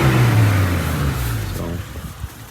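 A 1992 Geo Tracker's small 8-valve engine revs up briefly nearby, a loud rising drone that holds for about a second and then falls away toward a quieter idle rumble.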